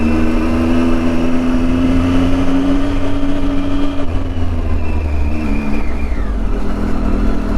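Triumph Tiger 800 motorcycle ridden on the road, captured through a GoPro Media Mod mic, with a loud steady engine drone and heavy wind rush throughout, the pitch easing slightly near the end, no talking.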